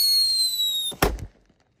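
Whistling King Thunder firecracker: a high, steady whistle for about a second, then one sharp, loud explosive bang with a brief crackling tail, close by and with no voices.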